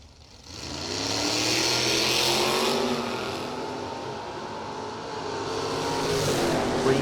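A 1974 Chevrolet Vega drag car at a street nationals drag racing event launches with a loud, sustained engine roar that builds, dips slightly and climbs again as it pulls away, heard from the trackside.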